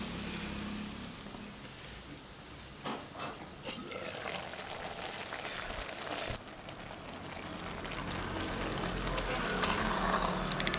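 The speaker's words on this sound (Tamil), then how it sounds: "மசாலா கூட நல்லா மிக்ஸ் ஆயிருச்சு. பிரியாணியில் எடுத்து சேர்த்துக்கலாம்." Mixed masala is added into a large pot of egg biryani with half-cooked rice at an outdoor village cooking spot, giving a continuous wet pouring and bubbling hiss with a few scattered clatters midway.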